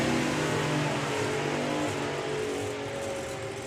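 A supercharged drag racing car roars loudly and steadily through a run at Santa Pod Raceway, a dense, sustained engine blast with a rich low harmonic drone that fades only slightly toward the end.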